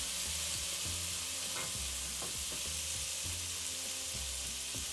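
Ginger garlic paste sautéing in a pan over a medium flame gives a steady, close hissing sizzle throughout, broken by the rhythmic knocks and scrapes of a spatula stirring.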